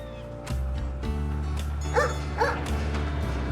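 Two short, clear dog barks from a dog character in the video game Bloomtown: A Different Story, heard over a steady low game-music bed, spaced about half a second apart.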